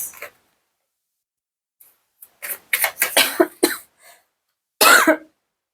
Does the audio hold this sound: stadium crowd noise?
no